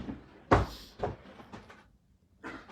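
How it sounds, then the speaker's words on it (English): Drawers being opened and shut at home, a few sharp wooden knocks and rattles spaced about half a second apart, close and fairly loud, with quiet pauses between. "I can't talk with you clanking drawers."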